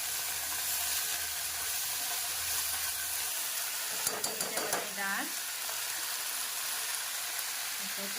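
Onion and leafy vegetables sauté in oil in a pan, a steady close sizzle with a brief burst of stirring clatter midway.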